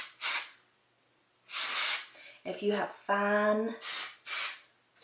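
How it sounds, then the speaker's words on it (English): Hairspray released in short bursts: about five brief, breathy hisses, each a second or less, with someone speaking briefly between them. "With any product, hairspray or anything, you want to use short burst."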